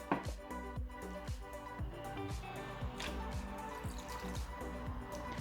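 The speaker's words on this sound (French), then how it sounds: "Ensuite je viens ajouter l'eau, donc il en faut 9 doses." Water poured in a thin stream onto tapioca pearls for homemade slime, a run of quick drips and splashes repeating close by at an even, soft level.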